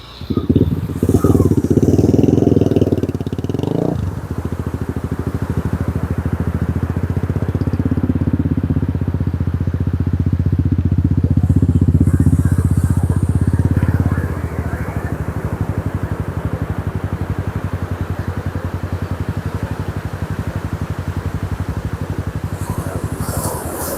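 A motorcycle rides a sunny coast road near Cox's Bazar, between hills on one side and the sea on the other. Its engine drones loud and steady throughout, with wind rush and a slight drop in tone partway through.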